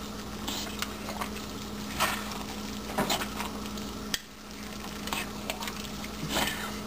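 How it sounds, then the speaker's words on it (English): Spoon stirring black pepper into quinoa cooking in a pot, a steady soft sizzle with a few scraping strokes spaced every second or so, close and fairly quiet with no talk. "And I'm going to stir that in."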